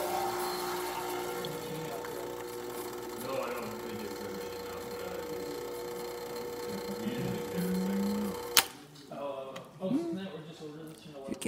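A Pasquini espresso machine, freshly fitted with a new group-head gasket, pulls a single shot: a steady pump hum with mains-like drone runs for about eight seconds, then cuts off, leaving brief quiet clatter behind.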